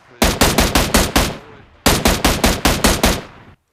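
Two loud, close bursts of automatic M16 rifle fire in the mobile battle-royale game PUBG Mobile, each a rapid string of about seven sharp shots, separated by a brief pause.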